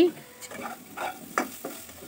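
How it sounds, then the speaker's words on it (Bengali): Soft frying sizzle of potatoes on very low heat, partly covered, with occasional stirring scrapes and light clinks, fairly quiet and steady, no voices. "এগুলোকে আমি একটু ঢেকে ঢেকে খুবই কম আঁচে ভাজতে থাকবো"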